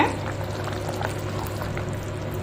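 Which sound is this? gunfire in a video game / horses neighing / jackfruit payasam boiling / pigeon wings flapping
jackfruit payasam boiling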